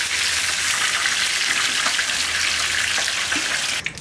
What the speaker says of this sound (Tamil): அதனால் நல்லா பொறிஞ்சு வச்சு எடுத்துடலாம்